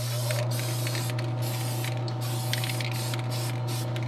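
Testors Dullcote matte aerosol sprayed onto a painted figure, a soft hissing spray in short bursts over a constant low mechanical hum, fairly close.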